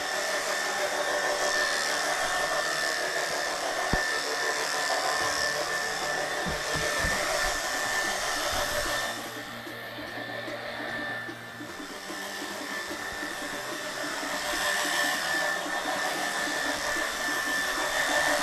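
An Oreck Orbiter floor machine scrubbing a dirty carpet with Betco Green Earth peroxide-based cleaner, a steady loud motor whine and hum that dips briefly midway, with a few knocks and clunks.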